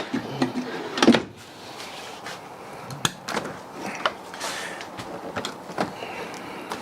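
Several short sliding thuds and rolling clunks of full-extension drawers in a 2019 Eclipse Attitude 28 IBG toy hauler travel trailer, with one louder bump early on, spaced irregularly against a quiet room.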